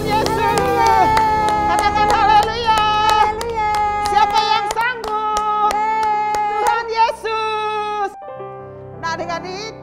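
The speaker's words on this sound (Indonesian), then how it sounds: "Tepuk tangan untuk Tuhan Yesus" Rhythmic hand clapping in praise at an online Sunday school worship session, steady claps on the beat alongside loud singing and music.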